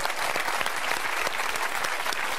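Studio audience applause at a French television show, a dense, steady burst of clapping from a large crowd filling the whole moment.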